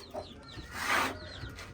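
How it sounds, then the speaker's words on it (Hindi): Roosters and a lame chick in a cage give soft, repeated clucks and short chirps, close by and fairly quiet, with one louder burst in the middle and no speech. "यहाँ पे बैठा हुआ है हमारा लंगड़ा चूज़ा और यहाँ पे हैं वो बहुत गुस्से वाले मुर्गे"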